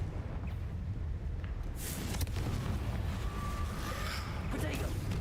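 A Confringo spell explodes in Hogwarts Legacy: one loud broadband blast bursts out partway through, over a dense layer of game noise, with a person talking throughout.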